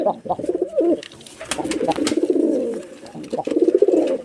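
Racing pigeons of the Rajshahi giribaj breed, a breeding pair, coo in repeated throaty bursts close by, with short pauses between phrases and no talk over them.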